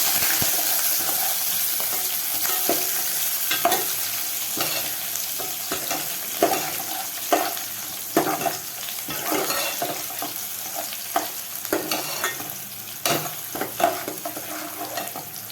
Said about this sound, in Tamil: இப்போ வெங்காயம் கொஞ்சம் தாளிச்சுக்கிறோம்.